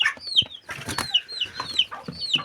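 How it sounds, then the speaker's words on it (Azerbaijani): Chicks peep in high, repeated downward chirps while hens cluck in short low bursts close by, forming a busy, overlapping backyard flock chatter. "Bunlar da fürsətçi cücələr"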